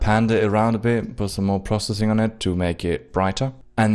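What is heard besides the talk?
No everyday noise stands out behind the speech.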